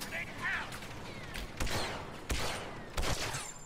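Rapid gunfire bursts crack and echo in the Star Wars Battlefront 2 video game, several sharp shots spaced about a second apart over a busy battle background.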